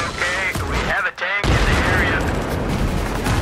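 Rapid automatic gunfire in Battlefield 3 roars close and loud, with sustained bursts and a brief gap before the firing resumes amid battlefield noise and voices.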